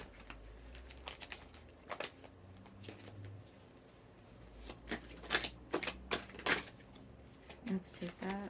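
Tarot cards being shuffled and drawn up close, with quick papery riffles, slaps and flicks in irregular bursts, quiet overall, with soft speech in places.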